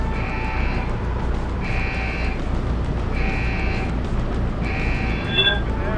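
An alarm in the video game Deus Ex: Human Revolution blares in four evenly spaced, steady electronic tones, each lasting under a second, over constant loud game noise and rumble.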